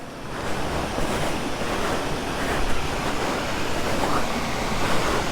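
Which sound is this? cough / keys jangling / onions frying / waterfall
waterfall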